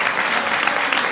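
A church congregation claps together in a dense, steady burst of applause, loud and close, filling the room for a brief moment.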